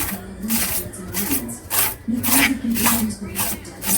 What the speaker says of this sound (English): All you gotta do is just rake through the stems.